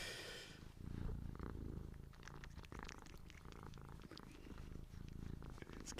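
A cat purring steadily up close, a continuous low rumbling throb that runs throughout, quiet in level, with no talk over it.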